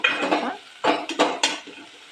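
Food frying in a pan while being stirred for sprouted-bean sambar, with short bursts of scraping and sizzle close by, separated by brief pauses.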